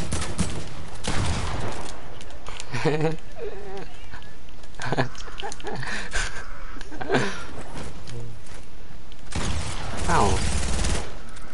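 Bursts of rapid gunfire from a video game arrive in several loud clusters across the stretch, overlapping with a player's excited talking and exclamations.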